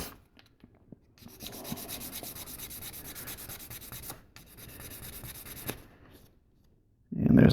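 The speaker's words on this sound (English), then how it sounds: "I just sand that down until those are all gone." A plastic model kit part for a 1/72 Sinanju is sanded by hand, with close, steady scratchy rubbing strokes in two long bursts separated by brief pauses, followed by a faint voice at the end.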